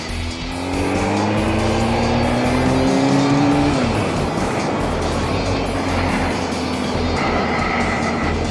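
A motorcycle ridden on a hot midday road by a rider in T-shirt and shorts, with a loud, steady engine drone and wind roar throughout, one rising then falling engine whine, and no talking.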